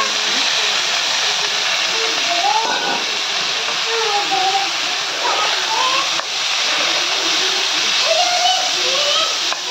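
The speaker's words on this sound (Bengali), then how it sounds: "ভাজা হলে পরে শাকটি দিয়ে দিব" Putti greens frying in a pan with onion give a loud, continuous close hiss of steam and sizzle that holds steady throughout, with faint clattering beneath.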